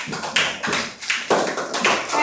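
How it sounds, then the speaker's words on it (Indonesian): Indonesian school class applauding the final presenting group, a few loose bursts of clapping from a roomful of students, fairly close and brief. "Boleh tepuk tangan untuk kelompok terakhir"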